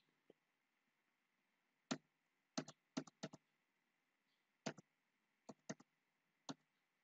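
Scattered bursts of typing on a computer keyboard while entering a trigonometric function into GeoGebra, with crisp key clicks arriving in short clusters separated by pauses, fairly close and otherwise quiet.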